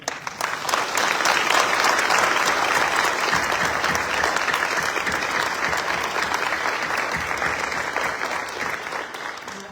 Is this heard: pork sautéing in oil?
no